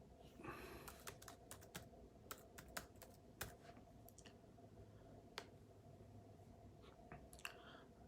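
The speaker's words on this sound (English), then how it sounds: "Type the title." Faint typing on a computer keyboard: irregular clusters of soft key clicks with short pauses between bursts, quiet and close.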